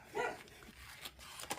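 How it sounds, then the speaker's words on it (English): A dog barks a few times at a distance, faint short barks spaced across a quiet background. "That's a dog."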